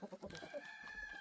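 Homestead chickens cluck in short, close bursts over a faint background murmur, lasting only about a second.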